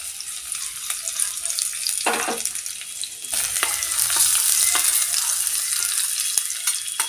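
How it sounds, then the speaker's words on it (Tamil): Chopped garlic sizzles and crackles steadily in hot oil, the frying growing louder partway through, with occasional stirring clicks. "ஒரு ஸ்பூன் அளவுக்கு எண்ணெயை விடுவோம் கொஞ்சம் சூடாகட்டும் பொடி பொடியே நறுக்கினா பூண்டு சேர்த்துக்குவோம்"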